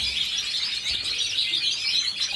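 Birds in an aviary sing and chirp continuously, a dense bright twittering at moderate distance with no talk.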